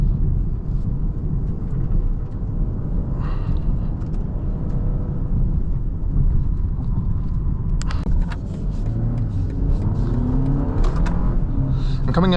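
A 2025 BMW M235 Gran Coupe with a 7-speed gearbox and front differential accelerates, its engine a steady, loud low drone heard from inside the cabin with road rumble, rising in pitch near the end.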